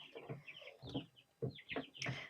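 Young chicks in a brooder, with a young cockerel among them, give a run of short chirps and clucking calls in five or so bursts, fairly faint and close, with no talk.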